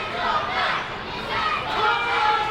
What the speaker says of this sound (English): now you hear the crowd trying to will the champion back into this matchup